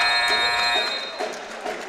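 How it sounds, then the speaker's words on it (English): A buzzer sounds at the end of the first quarter of a varsity boys high school basketball game in a gym, a sustained tonal blare running the full two seconds while crowd noise and faint voices sit beneath it. "He does at the buzzer."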